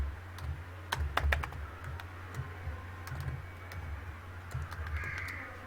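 Python code is typed on a computer keyboard as a close series of sharp clicks, clustered in quick bursts with short pauses and some quieter ticks, over a faint low hum, with no talking.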